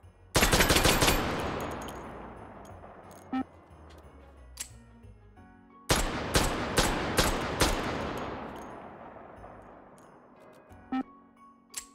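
Automag 5 firing in the VR game Hot Dogs, Horseshoes & Hand Grenades, two loud rapid bursts of gunfire ringing out with long decaying echoes and a few brief mechanical clicks between.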